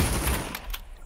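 A short burst of gunfire in Pavlov VR, a few quick shots that fade out within a second, moderately loud and without voices.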